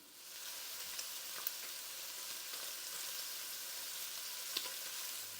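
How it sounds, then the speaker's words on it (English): Sausages searing in olive oil in a skillet, a steady close sizzle with faint pops and crackles throughout, no voices. "I'm going to add my sausage, and I just want to cook these for a couple minutes on each side so they get a nice golden brown sear on them"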